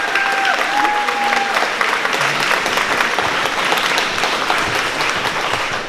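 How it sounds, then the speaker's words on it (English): Audience at an art retrospective opening gives a loud, sustained round of applause, dense clapping from a full room with a faint whistle-like tone near the start. "Yes, let's give Ed a huge round of applause."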